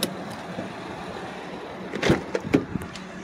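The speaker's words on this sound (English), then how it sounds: "This window works." The power window of a 2003 Infiniti I35 runs briefly inside the car, a short whirring motor burst with a couple of soft clunks as it stops, close and otherwise quiet.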